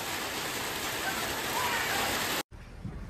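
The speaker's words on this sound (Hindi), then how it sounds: "बहुत ही ख़तरनाक वाले ओले गिर रहे हैं यहाँ पे और ज़बरदस्त बारिश हो रही है बहुत" Hail and heavy rain pounding down on a jammed highway, a dense, loud, steady roar of falling water that cuts off abruptly near the end, leaving faint background noise.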